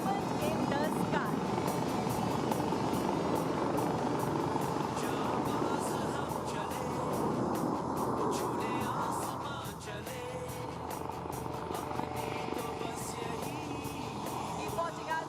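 Jet aircraft in a formation flying display at Aero India 2021 roar steadily from a distance, a broad engine rumble that shifts in pitch as the formation passes, under a commentator's voice.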